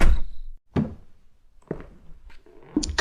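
A house door is slowly opened just after the security alarm is disarmed, giving a few separate muffled thuds and clunks with short silences between them, close and moderately loud.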